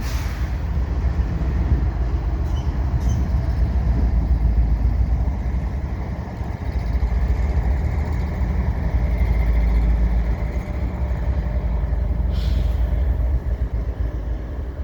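Canadian Pacific afternoon double-stack freight, train 143, with two ES44 locomotives rolling past at Dorval, Montreal: a continuous heavy rumble of engines and wagons, swelling slightly midway, with faint brief squeals high above the roar.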